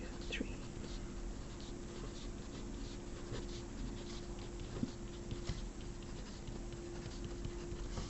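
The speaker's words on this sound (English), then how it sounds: "So I'm going to write out every number between 1 and 14." A pen scratches out a run of handwritten numbers on paper while working a GCSE foundation maths practice question, with faint, irregular strokes sitting under a steady low hum and room noise.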